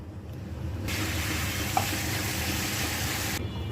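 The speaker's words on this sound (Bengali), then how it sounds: "এক এক করে মাথাটা একটু ভেজে নিব, যে একটা মাছের গন্ধটা চলে যাবে।" Rohu fish head frying in hot oil, a steady broadband sizzle that switches on about a second in, holds evenly, then cuts off sharply near the end, with a faint low rumble underneath.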